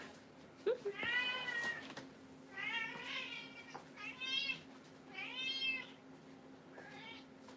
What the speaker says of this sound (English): And now my cat is running around.